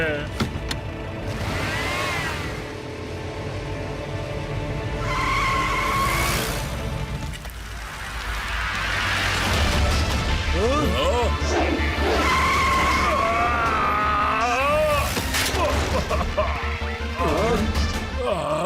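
Jeep in an animated series driven hard with repeated tire skids and squeals and a droning engine, under several excited voices talking throughout.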